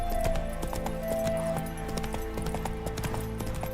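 Roach, the horse from The Witcher 3, running at speed: rapid clopping hooves in a steady beat, loud and near, layered over a continuous game background bed.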